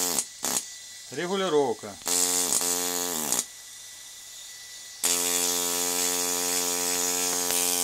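Homemade pneumatic chisel buzzing in short bursts and then running steadily, loud and close, with brief pauses and wavering pitch, and someone says a word near the start.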